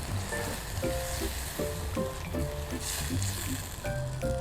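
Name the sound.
stirring gravy with flour in a roasting pan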